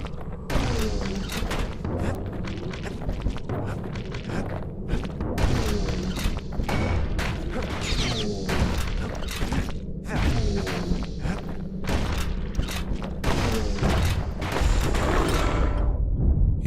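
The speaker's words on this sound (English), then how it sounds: "the turrets in this level, when they blow up, they destroy the floor that they were on." Turrets blowing up in the video game Bastion, with booms and thuds that break the floor beneath them, scattered among game music and footsteps, dense and continuous with repeated impacts throughout.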